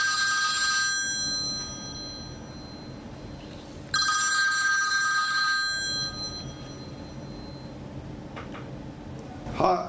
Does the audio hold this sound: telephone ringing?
yes